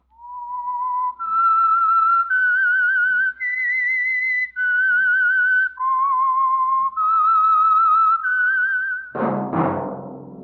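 A single person whistles a clear, melodic tune, each sustained note wavering slightly, ending with a sudden loud burst of noise.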